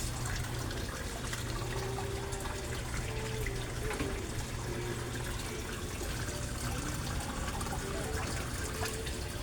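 Water gushes steadily from a submersible pump, a dense continuous rush and splash that stays at an even, fairly loud level throughout with no pauses.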